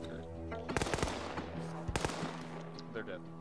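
Video-game gunfire from a squad mission: a few quick bursts and sharp single shots crack loudly over steady background ambience, with a pause before another short volley.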